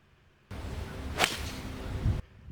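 A single sharp swish of a 5-iron golf club cutting through the air, followed by a solid strike on a golf course fairway, against quiet outdoor ambience.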